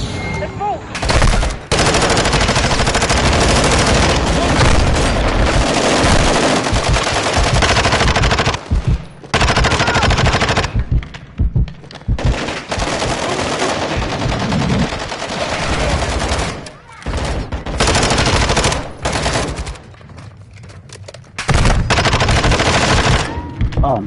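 Gunfire from Call of Duty MWII during a raid mission: long, loud bursts of automatic weapon fire and shots fill most of the stretch, broken by short quiet gaps, with players' voices faint underneath.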